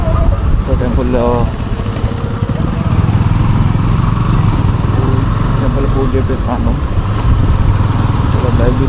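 A Honda CB300F motorcycle engine idles steadily and close by, a constant low rumble that runs the whole time while people talk over it.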